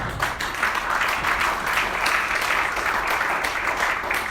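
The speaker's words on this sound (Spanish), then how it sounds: "Den un aplauso al Señor" Congregation applauding in church after a baptism, a thick, even burst of many hands clapping nearby that keeps up steadily throughout, with little voice over it.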